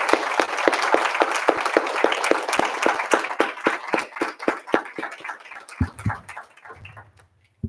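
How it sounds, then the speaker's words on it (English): A school board meeting audience breaks into loud, dense standing applause that carries on steadily, then thins to scattered claps and stops near the end. "can we just stand up and give her a round of applause for a job well done?"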